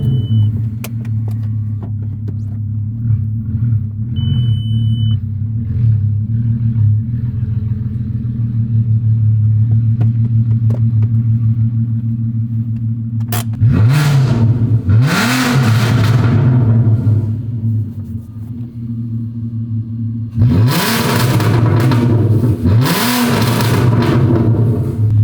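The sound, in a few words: car straight pipe exhaust revving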